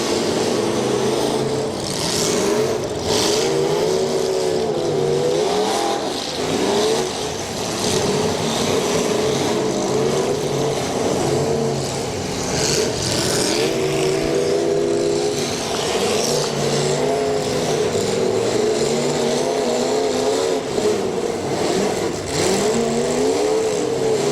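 Derby cars at a county demolition derby revving and racing, engines roaring and rising and falling continuously in the near-to-mid distance over a steady crowd-like background.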